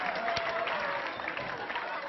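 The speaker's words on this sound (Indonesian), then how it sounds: "kita sambut dengan tepuk tangan semuanya." An audience at a live stand-up comedy show claps steadily, a moderately faint, even patter of applause lasting the whole moment with no clear voices over it.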